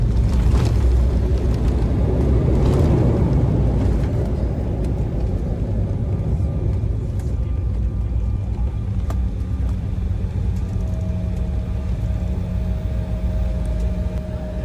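An airliner brakes hard after landing on a short runway at Reagan National Airport, heard from inside the cabin as a loud, steady roar that slowly eases and settles into a quieter hum.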